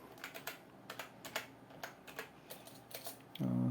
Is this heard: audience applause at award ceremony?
no